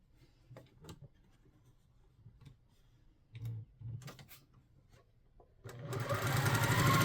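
A sewing machine stitches a quilt block with a quarter-inch seam in short, stop-start bursts of close mechanical ticking, ending in a longer, louder continuous run of stitching.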